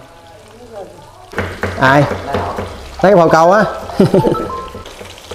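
Featherback fish with lemongrass frying in a pan, a continuous sizzle and crackle under people talking loudly nearby.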